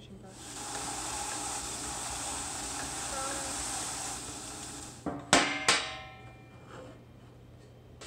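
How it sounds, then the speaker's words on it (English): A burnishing brush rubs steadily over a batt in a workshop, a continuous broadband scrubbing hiss that runs for several seconds, then stops, followed by a few sharp knocks and clatters close by. "I'm going to go ahead and use my burnishing brush."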